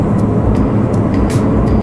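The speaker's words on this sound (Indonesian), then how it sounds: "hal itu mungkin saja menandakan bearing roda mobil kalian aus atau rusak." Loud, steady low rumbling drone from a car in motion, a grinding hum typical of a worn wheel bearing, with faint ticks over it.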